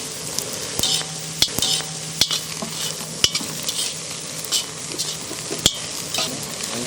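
Fried, crushed quail sizzles and fries in a pan for quail masala while a utensil stirs and scrapes, with a few sharp clacks against the pan's side.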